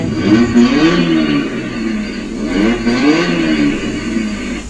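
Electric ride-on toy car for babies making a looped synthetic engine sound, rising and falling revving tones repeated twice, loud and close with no talking.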